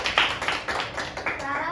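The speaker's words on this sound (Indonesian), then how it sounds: "Beri tepuk tangan dulu pada Dena." A classroom claps for a student, a burst of hand clapping with uneven rhythm that rises and falls over a couple of seconds, fairly close, with voices murmuring underneath.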